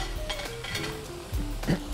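Steak sizzling in a pan as it is flipped, a healthy steak-and-vegetables preparation: a steady close frying hiss with a few soft clinks and scrapes of utensils against the pan.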